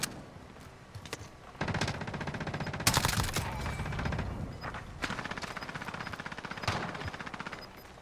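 Rapid automatic gunfire in a multiplayer shooter video game rattles in dense bursts and continuous streams, with a heavy salvo near the three-second mark; moderately loud and up close throughout, with no speech.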